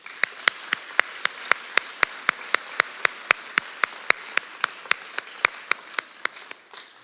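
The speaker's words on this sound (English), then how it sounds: "Let's give them all a huge round of applause." Applause for the sponsors of a scholarship pageant in a church venue. A few nearby hands clap in a steady, evenly spaced rhythm over a soft bed of wider audience clapping, slowing slightly near the end.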